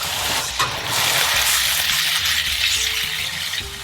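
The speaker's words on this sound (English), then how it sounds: "we want to cook our onions and our tomatoes for around 10 minutes to really melt them" Onions and tomatoes fry in vegetable oil and butter ghee in a karai, giving a steady, close, bright sizzle that hisses continuously with small crackles and no talking.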